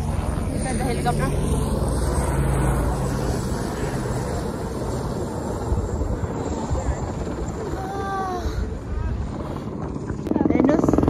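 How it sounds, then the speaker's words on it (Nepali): A helicopter flies near Gosaikunda, Nepal, its rotor thudding loud and steady for the whole stretch, close and unbroken, with engine whine layered over the beating blades. "हेलिकप्टर"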